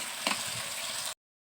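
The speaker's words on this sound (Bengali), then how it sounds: "এই যে আমি এখন তরকারিগুলো ঢাইলে দিচ্ছি, দিয়ে ভালোভাবে তরকারিটা কষাইয়ে রান্না করে নিব।" Curry poured into a hot pan bursts into loud, close sizzling as it is sautéed over a stove. The sound lasts about a second, then cuts off abruptly.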